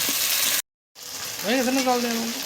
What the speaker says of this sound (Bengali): জিরে আদা লঙ্কা রসুন একসাথে বেটে নিয়েছিলাম এটা এটাকে ভালো করে আমি কষে নেবো